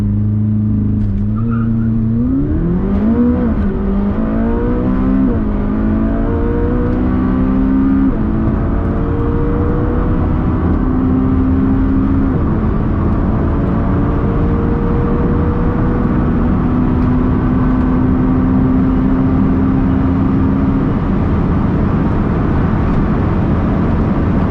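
McLaren 570 supercar accelerating hard on a half-mile speed run, the engine note rising sharply through a quick gear change near the start, then climbing steadily in one long, loud pull.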